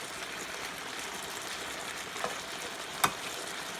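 Chicken breast sautéing in a pan with garlic onion marinade, a soft continuous sizzle with a couple of sharp clicks or utensil taps near the end.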